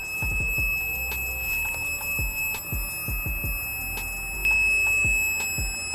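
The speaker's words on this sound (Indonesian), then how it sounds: "Maka buzzer langsung berbunyi karena dayanya lebih dari 200 watt." Electronic buzzer on a lighting control panel sounds a steady high-pitched alarm tone after the power load tops 200 watts, ringing continuously for several seconds over a background of clicks and low rumble.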